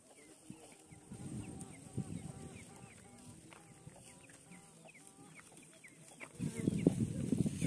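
Chickens cluck and peep on a farm where a hen shelters about nine chicks, a steady stream of soft calls with louder clucking near the end.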